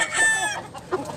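Chickens at a poultry market in Cebu give a brief flurry of close, loud clucks and squawks, one short call following another.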